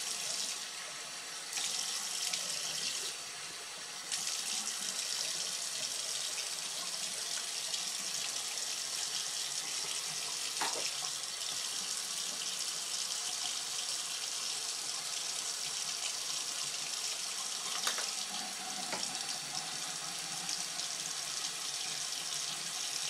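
Tap water runs steadily into a sink while someone rinses off after shaving thick facial hair with a Maggard MR1 razor, a loud continuous hiss with brief splashy changes as hands move through the stream.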